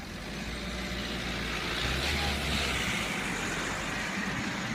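Rush-hour road traffic in Armbouts-Cappel, France, a continuous rumble of cars and trucks passing nearby, one heavy vehicle's low engine drone swelling and fading midway.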